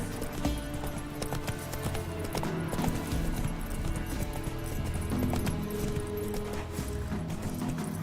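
A horse gallops in The Witcher 3, its hooves clip-clopping in a quick steady rhythm through the whole stretch, close and fairly loud, with game music and ambience running underneath.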